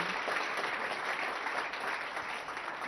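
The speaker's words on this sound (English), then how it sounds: "That's a round of applause." Applause rises from the audience at a school board meeting in honor of a high school marching band, a steady wash of clapping that is fairly quiet, as if heard from some distance, and lasts the whole moment.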